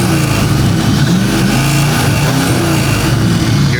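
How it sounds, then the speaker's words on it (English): A car engine revs loud and close, a rough roaring rumble that rises and wavers steadily with no pause. "Give me a couple revs."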